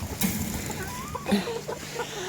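Soft Pekin bantam hen clucking in short bursts, with a few quiet chirpy calls, fairly close against a steady background hum.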